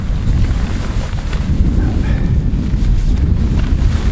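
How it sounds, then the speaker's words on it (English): Strong wind buffets the microphone with a steady, loud low roar that never lets up, with no voices. "very windy up here"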